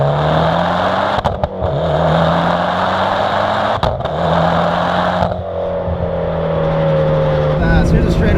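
A 2008 Mitsubishi Evo X running on E85 accelerates hard along a straightaway, its engine note climbing through the gears with brief pauses at the shifts, loud from inside the car, as a person talks over it.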